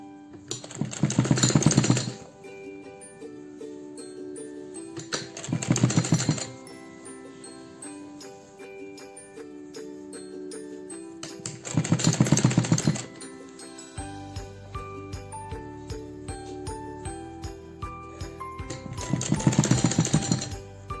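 A sewing machine stitches pleats into fabric in several loud bursts of rapid mechanical chatter, separated by quieter pauses with light handling sounds.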